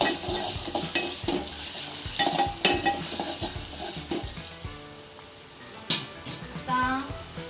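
Ginger-garlic paste hits hot oil already holding mustard seeds, cumin and curry leaves for a Maharashtrian katachi amti, bursting into a loud sizzle with spatula scrapes and stirring knocks that settle into a quieter crackle.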